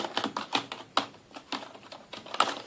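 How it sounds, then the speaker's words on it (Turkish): Keys on a Logitech G103 gaming keyboard are tapped in an irregular run of sharp, typewriter-like clicks, close and fairly quiet, with no talking. "oyun klavyelerinin diğer klavyelerden ayıran en önemli özelliklerinden biri ise bastığınızdan daktiloya benzer bir ses çıkarması"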